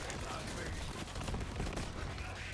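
An SNS gun in the Borderlands video game fires in rapid bursts, a dense rattling volley that continues throughout at moderate loudness.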